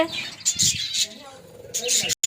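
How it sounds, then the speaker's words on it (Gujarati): Lovebirds and zebra finches in an aviary cage give bright, repeated chirps in short bursts, fairly close, over a low murmur of background noise. "એ બધી લવ બર્ડ્સ છે બધી જ"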